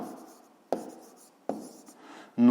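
Pen strokes on paper as an answer is written down for a fifth-grade maths exercise, a few soft scratchy bursts with sharp onsets about every three-quarters of a second, ending in a louder, brighter scribble, close and alone.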